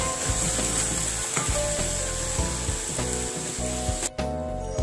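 Beetroot halwa bubbles and sizzles in a pan, a steady loud frying hiss with repeated scraping stirs and soft thumps, music playing alongside.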